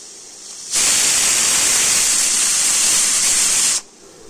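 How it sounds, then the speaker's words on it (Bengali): A pressure cooker holding beef trotters lets out a sudden loud, hissing steam whistle that holds steady for about three seconds and then cuts off abruptly, with no voices. "আমি 8-9টা এইভাবে সিটি দিয়ে নিচ্ছি।"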